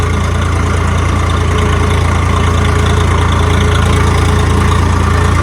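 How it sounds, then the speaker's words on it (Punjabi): A Swaraj tractor engine runs at a steady 1200 rpm, a loud, close, continuous diesel drone with a constant low throb and no change in pace. "ਹੁਣ 1200 ਚੱਕਰਾਂ ਵਿੱਚ ਤੋੜ ਰਹੇ ਹਾਂ ਦੇਖਦੇ ਕਿੰਨੇ ਕ ਚੱਕਰ ਦੌੜਦਾ ਟਰੈਕਟਰ"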